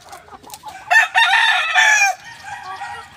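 Stag roosters crow in a backyard extension: one loud drawn-out cock-a-doodle-doo close by, with scattered clucks and softer fowl calls before and after.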